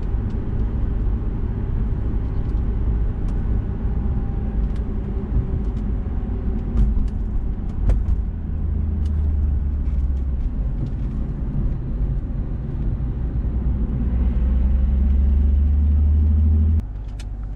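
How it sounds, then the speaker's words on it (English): A car lapping the Mount Panorama racing circuit, a steady close engine drone and road rumble with tyre roar throughout, swelling to a deeper heavier rumble near the end before easing off. "That's one complete lap of Mount Panorama racetrack."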